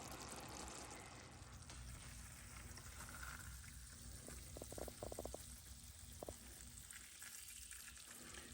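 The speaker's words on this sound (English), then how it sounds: "We're just pouring the syrup right over the sweet potatoes." Syrup pours over sweet potatoes for candied yams in a home kitchen, a steady liquid trickle over a constant sizzling, frying hiss, with a few brief clinks near the middle.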